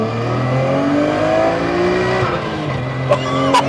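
A tuned Nissan R32 GT-R with an RB26 turbo engine of nearly 600 horsepower accelerates hard, a loud close engine roar rising through the gears, with brief tire chirps near the end.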